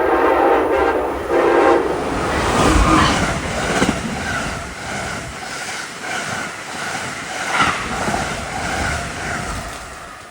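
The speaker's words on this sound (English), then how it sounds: "Train approaching." Amtrak passenger train on the Boston to Washington line approaching and passing a Connecticut station, a loud horn blast followed by the rumbling roar and clatter of cars rolling past, fading slightly at the end.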